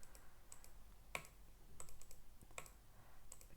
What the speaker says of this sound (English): So I double click this one.